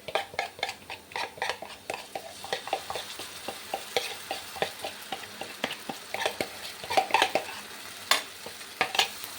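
Onion and yogurt mixture being stirred in a pan over low gas for a dahi bhindi sabzi, a steady soft sizzle broken by repeated scraping spoon strokes, close and fairly quiet with no talking.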